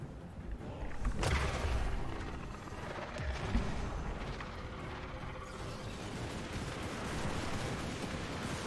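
A volley of handgunner musket fire in Warhammer 2, with a sharp crack early on and a dense, rumbling battle din of shots and clatter that stays steady throughout.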